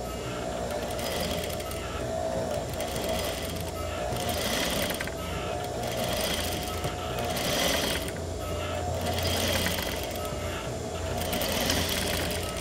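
A sewing machine stitches a flat felled seam with a fast, continuous mechanical whir and clatter, its needle action pulsing in short bursts that run steadily from start to finish, close and alone without talk.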